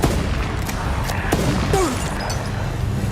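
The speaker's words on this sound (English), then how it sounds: "The sound of gunfire made the mother and daughter realize something was terribly wrong." Scattered gunshots crack amid a busy, noisy background, a few sharp reports spread across a few seconds, fairly loud and close.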